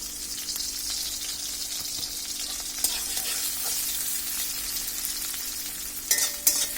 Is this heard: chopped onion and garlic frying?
yes